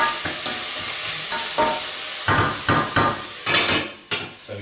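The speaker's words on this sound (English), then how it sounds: "At this stage I'm going to sweat the onions out." Onions with a big pinch of crushed garlic and Lea & Perrins cooking in a pan over medium heat: a steady close sizzle broken by repeated scraping stirs and clinks of a utensil against the pan, with no talking.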